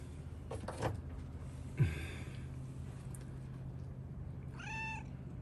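A cat gives one short meow near the end over a steady low hum, after a few soft knocks and thumps earlier, with no talking.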